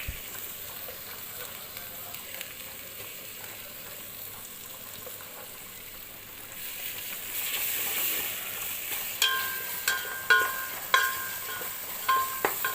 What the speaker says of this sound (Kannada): ಖಾರದ ಪುಡಿ ಚೆನ್ನಾಗಿ ಫ್ರೈ ಮಾಡಿದ್ಮೇಲೆ ಟೊಮೆಟೊ ಹಾಕ್ಬೇಕು